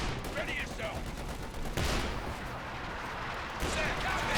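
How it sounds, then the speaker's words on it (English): .50 cal machine gun fire in Company of Heroes 2, heard as dense battlefield gunfire and artillery-like bursts that blend into a steady, loud wash of combat noise, with faint talk in the mix. "It's still getting suppressed here by the 50 cal."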